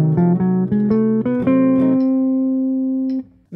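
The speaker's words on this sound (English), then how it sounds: "This is an 8-note scale that sounds like this." A guitar plays the eight-note diminished scale, climbing in clear, evenly spaced single notes before the last one rings out and sustains alone until it fades.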